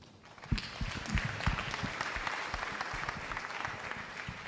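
An audience at a World Children's Day event in Kenya applauds a patron with steady, fairly close clapping that starts sharply and continues evenly.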